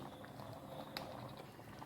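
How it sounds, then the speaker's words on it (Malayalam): Egg kurma curry with fresh cream and coconut milk simmers in a pot, giving a faint, continuous bubbling with a few soft pops and no talking. "നമ്മുടെ കറിയൊക്കെ നന്നായിട്ട് തിളച്ച് വന്നിട്ടുണ്ട്"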